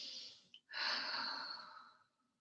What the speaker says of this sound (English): Take a deep cleansing breath, breathe it out, exhale